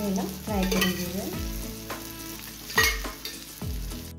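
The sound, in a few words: sole fish rawa fry frying in oil on low flame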